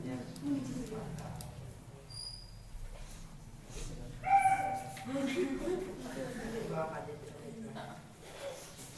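A dog whimpers and gives short yips at close range, the high whining cries rising most clearly midway through, over a steady noisy background.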